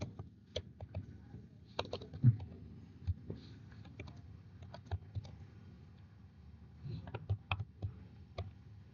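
Code being typed on a computer keyboard, irregular bursts of light clicking keystrokes with short pauses between runs, close and fairly quiet over a low background hum.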